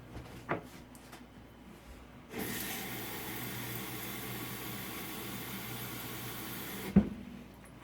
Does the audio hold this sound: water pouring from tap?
yes